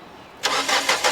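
A used Renault Duster's engine cranks and catches after a brief quiet moment, settling into a steady, close mid-pitched running sound with a few small surges in level.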